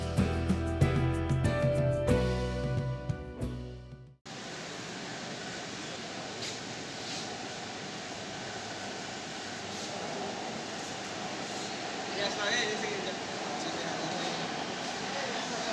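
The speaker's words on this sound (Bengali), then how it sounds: "হাওড়া ময়দান থ্রু সেক্টর 5 যাওয়ার মেট্রো শিয়ালদা স্টেশনে এসে পৌঁছলো" A Kolkata Green Line metro train arriving at Sealdah station, bound for Sector 5 from Howrah Maidan, heard as a steady rumbling roar inside the station after a short burst of music, with faint voices in the background.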